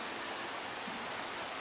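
Steady rain falls in the Minecraft video game, a dense even hiss of drops that holds level and unbroken throughout with no voices.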